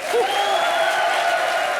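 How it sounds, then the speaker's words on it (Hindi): A comedy show audience applauds for Sohail, a brief burst of crowd clapping and cheering heard under a held vocal tone or music. "जोरदार तालियां सोहेल भाई के लिए"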